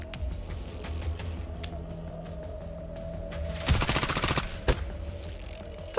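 A turret opens fire in the strategy game Reverse Collapse, a rapid burst of automatic shots lasting under a second, followed by a single heavy report, over a low steady hum.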